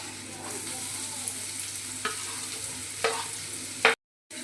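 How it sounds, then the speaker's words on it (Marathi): Chopped ginger, garlic and chilli sizzle steadily in hot oil for a Chinese-style tadka, with a few clinks of stirring over the constant frying hiss before it cuts off abruptly. "आलं लसूण आणि मिरची आपण चायनीज तडका देतोय ना"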